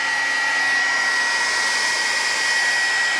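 A hair dryer blows steadily and loudly on a mixed media collage, a continuous broadband whoosh with a faint high whine running unbroken throughout, with no talking.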